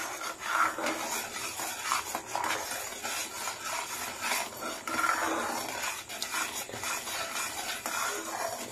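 A utensil scrapes and rubs against a cooking pot as milk for kulfi is stirred again and again to thicken it, making irregular rasping strokes, close and fairly quiet, with no talking.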